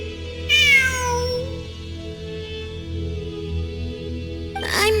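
A cat in the video game Genshin Impact meows twice, a clear, drawn-out cry early on and a shorter one at the end, over a quiet, steady ambient game background.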